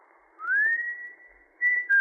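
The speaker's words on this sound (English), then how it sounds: "you could stand in the orchard until you heard him whistle" A man whistles clear, close tones: a long rising note held steady, then two shorter notes after a pause, with nothing else around them.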